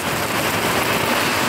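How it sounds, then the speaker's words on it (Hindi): Heavy rain falls steadily on an outdoor surface, a dense, continuous hiss of drops close by with no pauses and no voices. "आज ले देखे फाइनली बारिश हो रही है"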